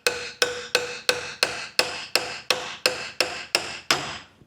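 Hammer blows drive a spindle bearing into a Dana 44 front axle, about a dozen sharp metallic strikes at a steady, even rhythm, close and clear with no talking.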